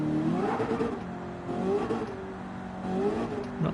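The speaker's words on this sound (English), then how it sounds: "From a car engine sound" Mustang engine in a racing video game revving in repeated surges, rising and falling pitch over a steady mid-range drone, loud and close with no talk.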